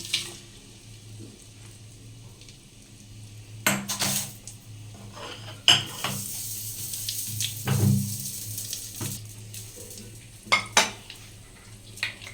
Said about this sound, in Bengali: মাটির হাঁড়ির মধ্যে ফোড়ন দেওয়া তেলটা দিয়ে দিচ্ছি